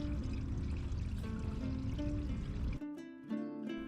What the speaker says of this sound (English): And then getting some fresh drinking water.